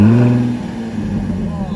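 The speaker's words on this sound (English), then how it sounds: "Jaguar F-Type, Supercharged V6." A supercharged V6 in a Jaguar F-Type gives a loud, close rev, with a strong low engine tone that swells and then settles under brief voices.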